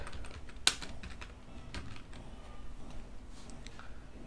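Typing on a computer keyboard while setting up Java in the Eclipse IDE on a PC: quiet, irregular keystrokes with one sharper click near the start, and no talking.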